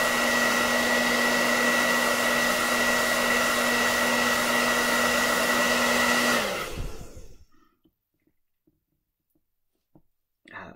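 A heat gun blows steadily and loudly with a constant whining hum as it heats a Microsoft Surface Book screen for removal, then cuts off, leaving near silence with a few faint clicks.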